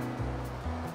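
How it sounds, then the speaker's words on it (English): Sea waves wash in a soft, continuous surf, faint and steady, under a gentle tonal musical backdrop. "The sea is very deep and blue."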